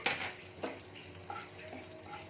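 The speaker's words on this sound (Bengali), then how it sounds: "দেখুন জিরেটা দিয়ে দিচ্ছি জিরেটা একটু ভেজে নেবো" Cumin seeds fry in hot mustard oil, a soft steady sizzle close by with a few louder crackles and stirring scrapes.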